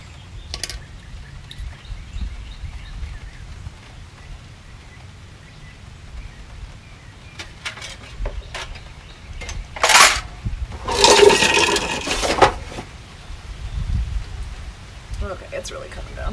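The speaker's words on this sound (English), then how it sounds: "it's really coming down" Steady rain falling outdoors on a cool morning, a soft continuous patter with a few louder splashing bursts and faint birds in the background.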